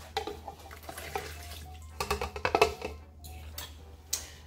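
Milk warmed to about 113 degrees poured into a bowl for king cake dough, making close, splashy liquid sounds in uneven bursts with light clinks of kitchenware.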